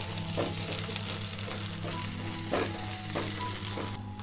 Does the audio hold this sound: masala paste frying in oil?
yes